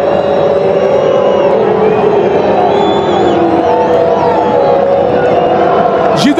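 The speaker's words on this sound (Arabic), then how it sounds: "نستمع رونالدو هذا ما يردده الجمهور" A stadium crowd at a football match against Al-Hilal chanting Cristiano Ronaldo's name, a loud sustained roar of voices with a commentator speaking over it.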